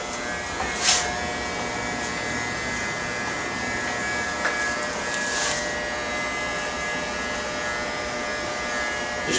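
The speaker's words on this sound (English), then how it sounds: "Just go ahead and shave the whole thing here." Electric hair clippers shave the nape of the neck during a forward style haircut, giving a steady close buzz throughout, broken by a couple of brief sharp clicks.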